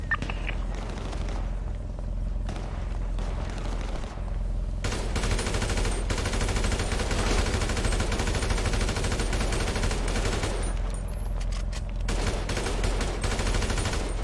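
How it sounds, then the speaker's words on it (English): In GTA V roleplay, loud sustained gunfire rattles nearly nonstop: rapid automatic bursts and overlapping shots, close and dense, with a steady low rumble underneath. "Shoot me, I'm getting shot in the back of the head."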